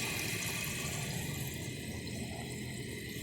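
A 1981 Briggs Conserver toilet flushes with a grocery bag in the bowl, giving a steady, close rush of water that runs evenly for several seconds.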